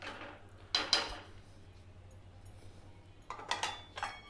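Carrot halwa sweetened with karuppatti being stirred in a cooking pot, then covered with a lid: two short bursts of clinking metal scrapes and knocks, separated by a quiet pause.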